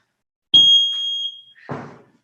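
Workout timer during a body weight circuit workout gives one long, loud electronic beep lasting about a second, followed by a short thud.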